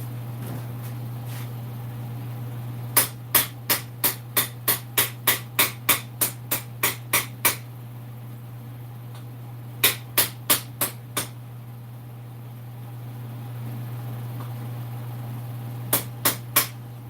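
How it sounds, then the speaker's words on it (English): A hammer taps a part held in a vise in quick metallic bursts, a run of about a dozen sharp evenly spaced strikes, a shorter group of five, then three more, over a steady low hum, with no talking. "put it in the vise and tap it back the other way a little bit"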